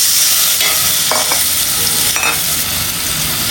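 Pointed gourd pieces fry in a pan for a Bengali tengra fish curry, a loud continuous hiss of hot oil with a few brief stirring scrapes, close up and without speech.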